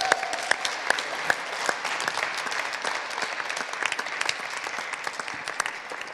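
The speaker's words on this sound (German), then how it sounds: "Immerhin so viel donnernder Applaus, wie man in diesen Corona-Zeiten auf die Bühne bringen kann." An audience at a political convention applauds under Corona-era limits, producing steady, moderately faint clapping with scattered sharper claps throughout.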